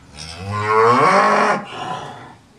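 A cow gives a long, loud moo up close, followed by a shorter, softer one trailing off.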